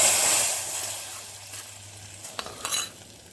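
Fried cashews and raisins are stirred into pumpkin payasam in a pan with a hiss at first, then soft scraping and a few light clinks of a spoon against the pot.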